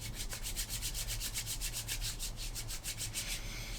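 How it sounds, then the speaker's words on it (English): Two hands rubbed together vigorously with a pea-sized dab of minty climbing hand balm, giving a rapid, steady, even swishing friction that runs without pause and stays close and fairly quiet. "it says put a pea-sized amount on your hands and rub vigorously"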